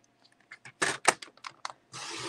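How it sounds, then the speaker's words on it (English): A paper trimmer cutting cardstock for handmade cards: a series of short scraping and clicking bursts from the blade sliding along, then a longer steady swipe at the end, close and clear. "So let's bring that trimmer back in. Grab a piece of cardstock"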